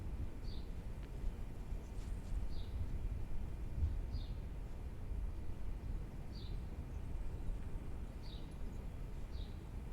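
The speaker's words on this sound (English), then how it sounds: "That's the sparrows outside my window." Sparrows outside a window give short, faint chirps, about six spaced a second or two apart, over a steady low indoor hum.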